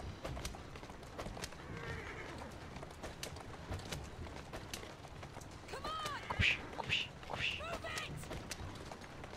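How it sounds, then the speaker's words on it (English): In Assassin's Creed Syndicate, a horse pulling a carriage whinnies and neighs over steady galloping hoofbeats and rolling movement, with a voice talking over much of it. "Go faster, you dumb horse."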